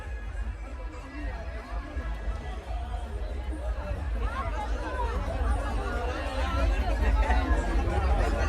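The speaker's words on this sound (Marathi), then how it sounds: "तुम्ही बघू शकता मित्रांनो की गर्दी भरपूर आहे." Crowd babble at a busy village yatra, many overlapping voices growing louder and closer toward the end, with nearby talk mixed in.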